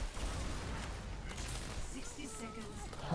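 Gunfire from the Overwatch video game in a continuous, dense stream of shots running the whole time, with a player's voice talking over the combat noise.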